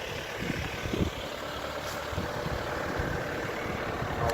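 Car engine idling after being started to warm up and defog the windows, a steady low rumble with a few faint knocks early on, close and continuous throughout.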